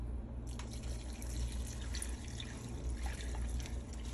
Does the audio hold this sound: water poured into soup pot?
yes